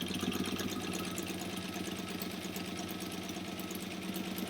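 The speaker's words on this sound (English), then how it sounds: "I'm going to back stitch a little bit there because I felt it catch" A sewing machine back-stitches a bag seam in a steady, continuous mechanical whir with a fast rhythmic chatter, close and even in loudness throughout.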